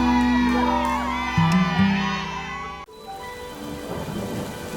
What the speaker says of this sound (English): Peppa and George ran outside to play as the rain started.